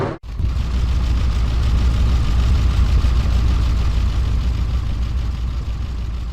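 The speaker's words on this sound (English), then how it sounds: "This Chevy SSR gets road ready with a supercharger system, Borla exhaust and headers" A supercharged Chevy SSR with Borla exhaust and headers idles in the L.A. Rush game, a loud, steady low engine rumble that holds throughout after a brief dip at the start.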